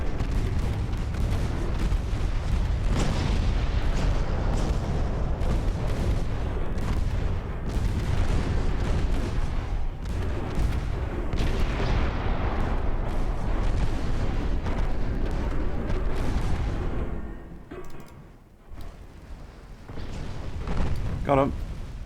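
Naval 6-inch guns fire in a WWII-style strategy game, a dense barrage of heavy booms and blasts rolling almost continuously before thinning out near the end, with a voice talking over the action.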